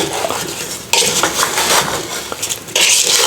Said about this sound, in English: mix these up a little bit with a wooden spoon